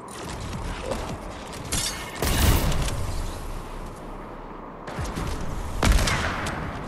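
Rapid bursts of video game gunfire mixed with mechanical clicks and clatter, loud and close, with heavier blasts around the middle and later, no speech.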